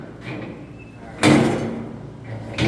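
During forcible entry training a door is forced and shoved, giving a sudden heavy thud and scraping rumble, close and loud, with a second knock at the end and no clear talking.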